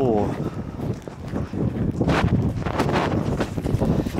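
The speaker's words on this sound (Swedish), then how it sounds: "Ursäkta att det blåser." Wind gusting outdoors at a historic site, buffeting the microphone with a steady low rumble under a voice speaking close by.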